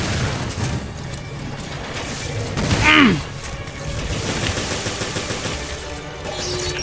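Gunfire and a grenade blast in Resident Evil Revelations during a boss zombie fight, with a loud burst around the middle over continuous game noise.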